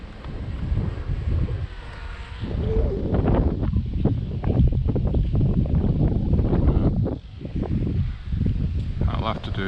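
Strong outdoor wind pummels the microphone in heavy, loud rumbling gusts that nearly drown out a voice talking.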